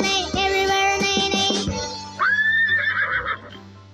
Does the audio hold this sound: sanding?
no